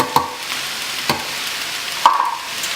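Sliced onion and canned corn frying in a skillet, a steady sizzle under a few distinct scrapes and knocks of a utensil stirring the pan, close and fairly loud.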